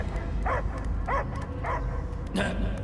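A dog barks in Guardians of the Galaxy, a short run of four evenly spaced, moderately loud barks set against a steady game background.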